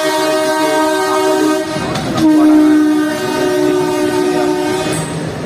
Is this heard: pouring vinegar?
no